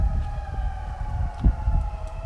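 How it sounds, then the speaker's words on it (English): Fire truck sirens on a Tokyo street, a steady wailing tone held across the clip, somewhat distant, mixed with low city traffic rumble and occasional thumps, no voices. "Multiple fire trucks are coming. An ambulance, I think,"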